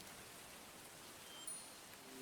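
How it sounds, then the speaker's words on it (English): Steady rain in the video game Murder by Choice: Clue Mystery, an even wash of falling water outside an abandoned house, constant and moderately quiet with no voices. "Should we hide from the rain in the abandoned house first?"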